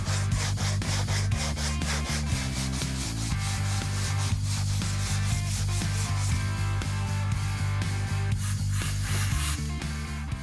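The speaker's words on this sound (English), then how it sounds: "then sand down that layer." Continuous rhythmic sanding of cured body filler on a new body panel of a classic Chevrolet Chevelle, steady back-and-forth rubbing strokes, close and loud throughout with no speech.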